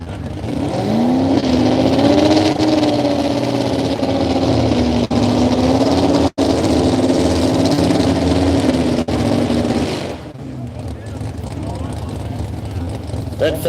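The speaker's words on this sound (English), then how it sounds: "these trucks are going to be loud" Super stock 4x4 trucks at a truck pull in Sheldon, a loud sustained engine roar with rising and falling pitch that holds steady for about ten seconds before easing off, close and dominating the scene.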